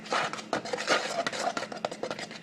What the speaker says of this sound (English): get your bowl with all of your mix in it. Give it one last mix